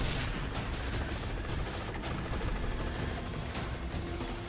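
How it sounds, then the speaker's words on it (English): Explosions roar nonstop during a Split/Second racing game, a dense, loud wash of blasts and rumbling debris with no let-up and no voices. "So many explosions!"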